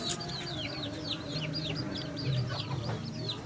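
Newly bought chicks peep continuously in quick, high chirps, with soft clucking and farmyard murmur underneath, heard close and fairly steady throughout.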